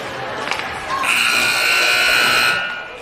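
End-of-period buzzer at an ice hockey game between Lady Wild and Sioux City Black, a loud sustained electronic blare of about one and a half seconds ringing through the arena over crowd noise.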